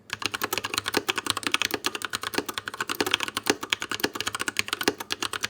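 Steady typing on a keyboard with Holy Panda V2 switches, a rapid, even stream of close keystrokes with a faint metallic ping on larger keys like the spacebar and shift, alone with no talking.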